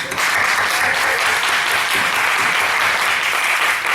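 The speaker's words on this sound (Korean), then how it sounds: "하나님께 감사와 영광의 박수를 드립니다" A church congregation applauds at a New Year's Eve worship service, a dense, steady wash of many clapping hands that holds evenly throughout with no voices above it.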